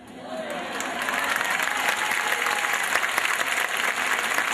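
A school audience claps vigorously for a choir performance by Escuela Nº 1 "Vélez Sársfield" with Coro Kennedy, the applause swelling quickly into a dense, sustained roar of many hands from a crowd.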